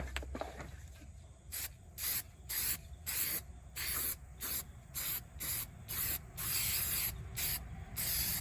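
Rapid, rhythmic bursts of spray paint hissing from a can, about a dozen short sprays in a row, close up and fairly quiet, applied as rust prevention during a brake job on a C6500 truck.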